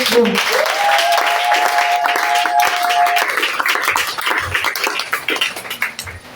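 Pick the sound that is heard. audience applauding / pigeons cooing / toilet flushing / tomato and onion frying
audience applauding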